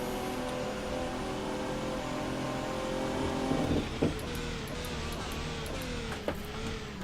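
Radical RXC GT3 race car in rFactor 2, a steady droning engine that shifts pitch with a few sharp blips as it downshifts near the end, close and continuous.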